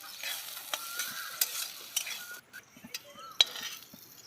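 Potatoes fry with salt and turmeric in a wok, a soft sizzle under intermittent stirring and sharp metallic clinks of a utensil against the pan, close and fairly quiet.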